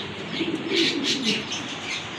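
Pair of Pakistani Rampuri pigeons at a farm, soft cooing and chirping close by over a steady background hiss.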